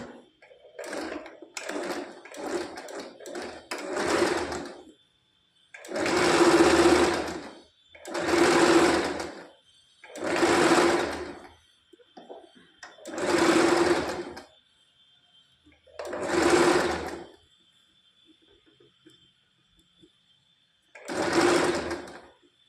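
A sewing machine stitching blouse pieces with a double stitch runs in about eight loud, close bursts of rapid whirring, the first ones short and choppy, the later ones longer, separated by quiet pauses.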